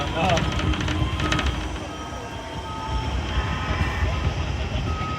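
An Amtrak Southwest Chief passenger train waits at the station, its steady mechanical hum and faint metallic squeals carrying under nearby chatter.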